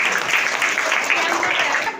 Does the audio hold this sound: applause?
yes